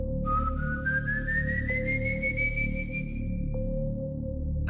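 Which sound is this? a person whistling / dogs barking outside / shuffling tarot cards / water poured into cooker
a person whistling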